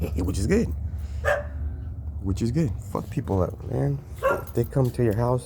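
A dog barks several times in short, loud bursts, mixed in among a man's continuous close-up speech.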